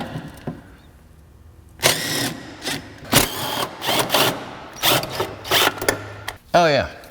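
A power tool buzzes in several short bursts, loosening engine mount bolts during removal of an old engine and transmission from a Ford Fairmont, close and loud with brief pauses between runs and a voice speaking in between.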